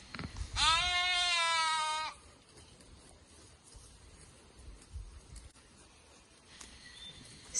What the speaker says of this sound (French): Alors, ils bêlent et petit à petit retrouvent le chemin de leur maman.